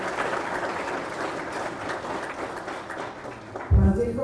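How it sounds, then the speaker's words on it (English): An audience claps steadily in a sustained round of applause for General Francisco Morazán at a public presentation event, a dense wash of hands throughout with a brief louder thump near the end. "I would like for all of us to give a big round of applause"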